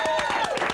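Studio audience applause on a live show, a short burst of rapid clapping close and full, with a tonal sound running underneath.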